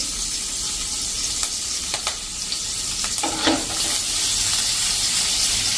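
A tempering of sesame seeds, green chili pieces and curry leaves for sev khamani sizzles in hot oil with a steady crackling hiss. A few sharp spoon scrapes and clicks from stirring break through it, and no one speaks.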